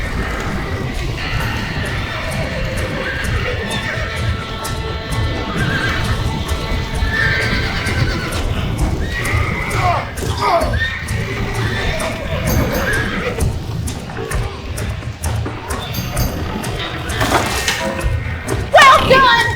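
Horses neighing and whinnying with galloping hoofbeats in the Red Dead Redemption video game during a burning mission, loud and repeated over thuds and busy background commotion.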